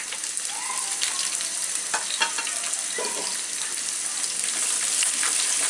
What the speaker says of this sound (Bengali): দিয়ে একটু ভেজে নেই